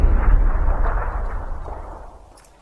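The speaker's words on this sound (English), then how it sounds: "grenade. A grenade." A grenade explodes in the battle royale game PUBG, a single deep, booming blast that hits hard at the start and then rumbles away over a couple of seconds.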